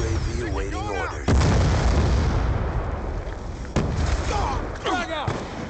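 Frag grenades burst in Black Ops II, with two loud booming explosions over a continuous battle din, and voices shouting between them.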